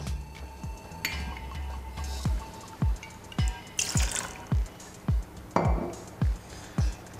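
Aperol poured into a metal cocktail tin for a limoncello sour: a run of evenly spaced dripping, pinging liquid sounds, close and fairly clear, with no talk.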